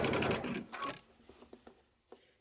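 A sewing machine runs in a short burst of close mechanical whirring, then stops, leaving a few soft, scattered clicks and taps.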